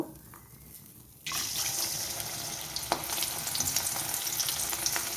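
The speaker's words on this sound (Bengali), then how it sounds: "এবারে এই তেলের মধ্যে আমি ছোলার ডালটা দিয়ে দেব। অল্প অল্প করে ভেজে নেব।" Chana dal dropped into hot oil in a home kitchen bursts into a loud, steady sizzle after a quiet opening second, the crackling frying continuing evenly to the end with no talk.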